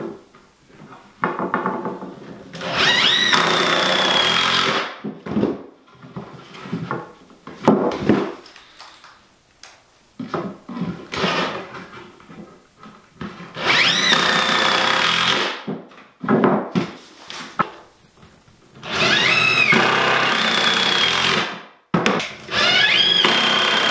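A power drill drives 2.5-inch screws into a wooden shelf frame in several long, loud, whining bursts with short pauses between them, heard close and with no talking.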